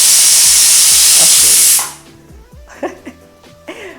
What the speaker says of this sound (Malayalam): അപ്പോൾ നമ്മുടെ ചിക്കൻ സ്റ്റൂ വിസിൽ വന്നിട്ടുണ്ട്.